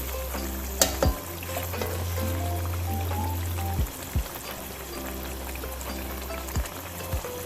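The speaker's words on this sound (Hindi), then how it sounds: "फिश को हमने बहुत हल्के हल्के से चम्मच के साथ हिला के इसको भूनना है" Fish frying in masala in a pan, with a steady sizzle and a few sharp spoon clinks and scrapes as it is gently stirred.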